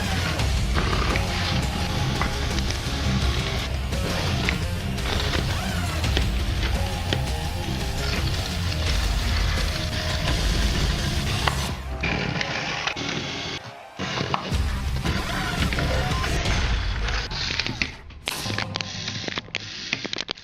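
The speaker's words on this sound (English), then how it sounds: "give it a little wiggle back and forward, and that will start the" Small electric motor in a modified remote-control Hexbug Thor toy whirs in a dense, steady close-up buzz, then cuts out and sputters in uneven bursts toward the end.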